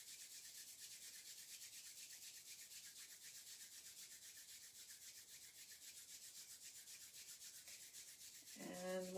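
Palms rubbing briskly together during a qigong exercise, a steady soft swishing friction that continues evenly for several seconds, close and quiet with no talk.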